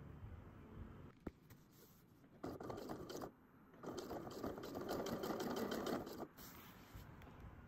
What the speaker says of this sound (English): we're gonna sew where the piping is again